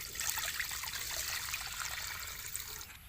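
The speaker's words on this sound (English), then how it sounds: "Add water." Water pours steadily into a cooking pot for a dish of cow's nose with soy sauce, a continuous close splashing trickle lasting the whole moment without talk.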